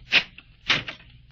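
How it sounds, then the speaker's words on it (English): A door is opened in an old haunted house, two short creaking clunks about half a second apart, close and clear with no voices. "Open the door."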